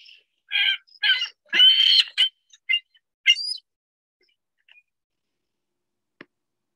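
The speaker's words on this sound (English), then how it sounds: "Oh no, it's a gull." A gull gives a series of sharp, squealing calls in quick bursts, then falls quiet except for a faint distant note.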